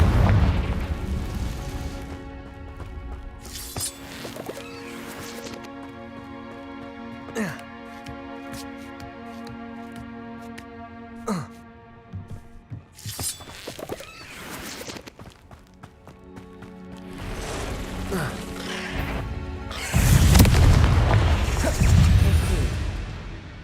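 Fire-spell explosions of the Confringo curse in the Hogwarts Legacy video game, with booms, whooshes and bursts over a dense musical and ambient game soundscape, plus a loud blast near the end, mixed with a voice shouting spell names.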